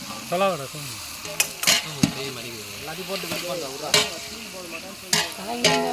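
Turmeric goes into a frying pan of eggplant gravy and is stirred, giving a steady sizzle with scraping and clinking of the utensil against the pan while a person talks over it.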